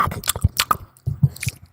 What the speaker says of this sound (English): Oh, it's crunchy like chips.